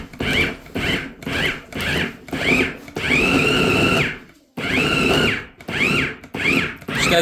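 An electric food chopper with nine blades and a heavy motor runs in repeated bursts, whirring up to a high pitch and stopping. Short pulses come first, then two longer sustained runs with short gaps between them, loud and close.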